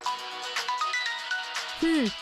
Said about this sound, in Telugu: ఫోన్ రింగ్ అవుతుంది, వెళ్ళండి